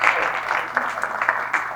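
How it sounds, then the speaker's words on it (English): Applause from an audience at a community exhibit event honoring local officials, a short steady burst of clapping filling the room, fairly close and even throughout. "So give them a round of applause."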